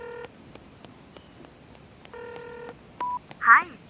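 Telephone keypad tones dial out a call, several short separate beeps followed by a longer tone and a louder electronic burst, clear and close, with no talking over them.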